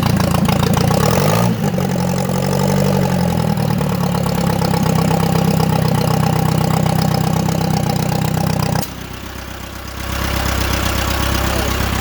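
A car engine idles loudly and steadily nearby with a low, chugging rumble, briefly dropping in tone before settling back to its even idle.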